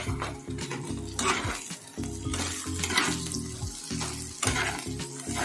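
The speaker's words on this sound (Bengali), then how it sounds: "আলু পেঁয়াজ ক্যাপসিকাম কাঁচা লঙ্কা সব কিছু দিয়ে দিয়েছি তো এগুলোকে বেশ ভালো করে ভেজে নেবো" Potatoes, onion, capsicum and green chilli fry in a pan, a close sizzle broken by repeated rhythmic stirring scrapes and clatter of the utensil against the pan.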